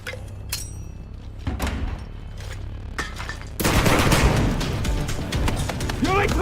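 Flashbang grenades and gunfire in the tactical shooter game Six Days, a sharp loud burst followed by dense crackling blasts and clatter, with several people talking over the action.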